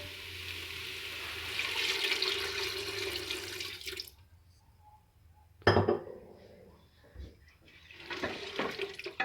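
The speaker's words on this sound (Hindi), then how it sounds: "अब हम इसके अंदर पानी ऐड करेंगे।" Water pours from a container into a pot of cooking beef korma, a rushing splash for several seconds, then a pause, a clink of metal, and another shorter pour.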